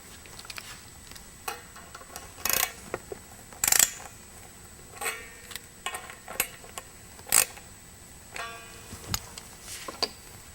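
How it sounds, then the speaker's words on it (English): Claw screws on an electric guitar's tremolo spring claw being turned with a screwdriver: scattered close metallic clicks, ticks and brief scrapes at an uneven pace, quiet, with no talking. "adjust the claw screws, which are located right here"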